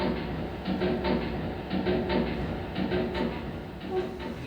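A train runs along the rails with a steady rumble and a repeating clickety-clack rhythm of wheels over the joints, close and continuous throughout.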